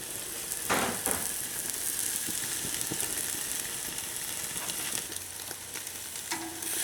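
Butter-coated London broil seared on a very hot grill sear box, a loud, continuous hissing sizzle that runs the whole time with brief flares and no talking.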